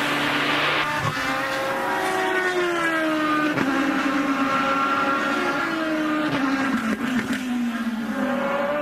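IndyCar race cars lapping the 2.3-mile Barber Motorsports Park road course in 2011, engines whining at high revs with rising and falling pitch as gears change, loud and continuous.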